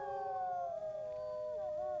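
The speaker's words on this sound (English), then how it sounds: "It's wolves. One sets up a cry when it finds a corpse." Several wolves howl together in long, sustained overlapping wails with gliding pitch, a steady chorus of canine howls filling the whole span with no talk.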